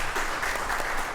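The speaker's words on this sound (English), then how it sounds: "Give applause." Brief burst of audience applause at the Ghoulish Book Festival, a close, loud patter of many hands clapping steadily for about a second.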